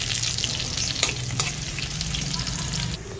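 Garlic, still partly in its skins, frying in freshly changed oil, a steady close sizzle with a few stirring scrapes, no talking.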